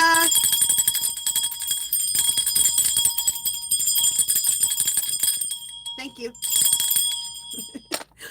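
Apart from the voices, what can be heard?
bells being shaken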